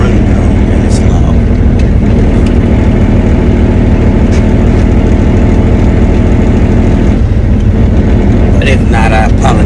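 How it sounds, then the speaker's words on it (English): A truck idles in an industrial park with a loud, steady engine rumble that fills the whole stretch, low and constant, with a few faint higher clatters near the end. "because my truck is running now and it's loud."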